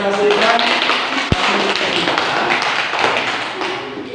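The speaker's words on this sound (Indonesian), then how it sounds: "tepuk tangan untuk kita semua yang sudah mempresentasikan" Applause breaks out in a classroom, a broad wash of hands clapping continuously at moderate loudness, with one sharp thump partway through and voices heard alongside.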